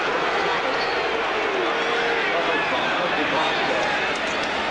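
Tens of thousands of fans booing at Arrowhead Stadium during a 1990 NFL game between the Seattle Seahawks and Kansas City Chiefs, a dense, sustained roar of disapproval filling the whole stretch with a broadcaster talking over it.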